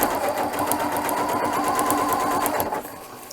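A Janome sewing machine with an Ultra Glide foot stitches elastic onto a bowl cover, running in a steady, fast mechanical whir for close to three seconds before slowing near the end, close and alone.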